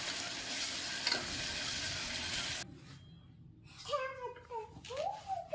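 Green chillies and ginger garlic paste sizzling in a hot pan, a loud steady frying hiss that cuts off abruptly midway, followed by quieter stirring and a voice in the background.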